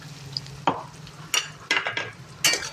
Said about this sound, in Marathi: कढईमध्ये तेल गरम झालेलं आहे आणि आता आपण हे टाकून घेणार आहोत. हे पण लगेच टाकून घ्यायचं आणि एकत्र मसाला आपण सगळा फ्राय करून घ्यायचा.